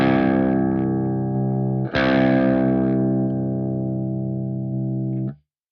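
Distorted electric guitar run through the pitch block of a Fractal AX8, shifted down one octave: a sustained chord, re-struck once, rings with a thick buzzy tone and then cuts off to silence.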